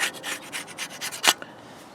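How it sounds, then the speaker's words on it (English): Old gasket material is scraped off a Kohler Courage 20HP valve cover in a steady run of rhythmic, close, rasping strokes that end with one harder scrape and then stop. "I won't have to scrape off all this gasket material"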